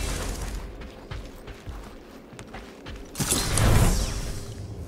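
A door opens aboard a ship in the Guardians of the Galaxy video game, giving a long creaking, grinding mechanism that builds into a louder rumbling surge near the end, with no voices.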